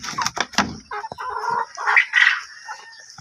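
Black Australorp chickens clucking nearby, a few short close clucks and squawks in quick succession, clear and alone.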